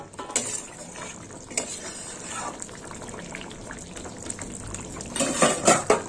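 Fried eggplant goes into a simmering prawn curry with mixed vegetables, making soft bubbling and liquid sloshing, with stirring clinks and a louder splash of added pieces near the end.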